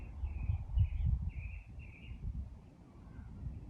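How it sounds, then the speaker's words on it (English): Birds sing outdoors during a yoga practice in Phoenix, a few short chirping phrases repeated in quick succession, faint and distant over a low background rumble. "Listen to the birds singing in the background."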